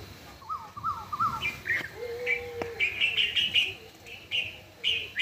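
Early-morning Asian koel coos repeat quickly at first, then other birds take over with brighter chirps and tweets, and a lower sustained whistle-like note sounds briefly in the middle, all fairly distant outdoors.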